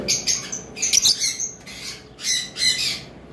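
Lovebirds and cockatiels at a bird farm squawk in repeated harsh, shrill bursts, close and fairly loud, with short gaps between calls and no talking.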